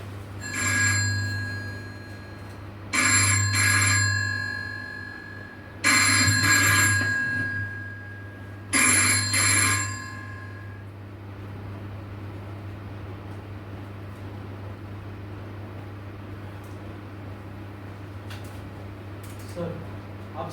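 An old telephone bell rings in four loud, separate bursts on a stage during a performance of a court-martial play, then stops, leaving a steady hum.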